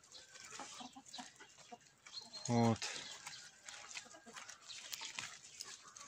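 Winter-hatched young cockerels and Sussex hens kept on free range give one brief, loud, harmonic call midway, with someone talking steadily around it.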